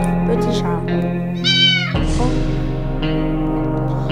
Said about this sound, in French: Oh, il y a un petit chat.